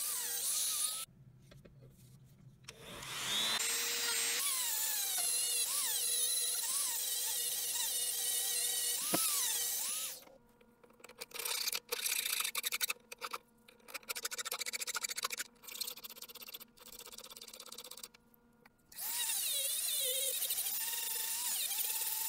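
A grinder takes the small tip off the bottom of a forged knife blade with a whining, buzzing tone, running in repeated short passes separated by brief pauses.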